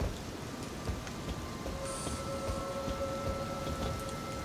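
Rain falling in the video game Elden Ring, a steady hissing patter of drops with faint tonal hums running through it, constant and moderately loud with no voice over it.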